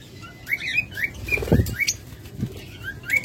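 Cage birds such as lovebirds, cockatiels and budgerigars chirp in quick overlapping bursts, with a few louder rustles or wing flutters mixed in, close by and without any talking.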